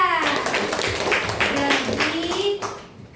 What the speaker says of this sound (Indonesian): tepuk tangan dulu untuk Manda